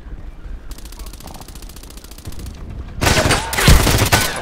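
Desert Eagle pistol fire in the shooter game Contract Wars, with a rapid metallic rattle early, then loud, sharp, closely spaced shots and impacts near the end.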